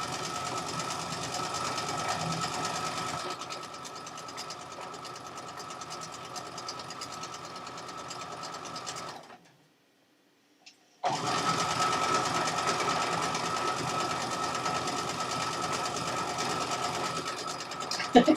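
A sewing machine runs steadily while stitching a quilt, with a fast mechanical chatter that stops for about two seconds and then resumes at the same pace.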